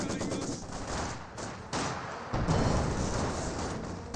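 Battle audio from Company of Heroes 2 has an anti-tank gun and small-arms fire. A steady fusillade of shots sits at moderate loudness, with sharper bursts stepping up the level partway through.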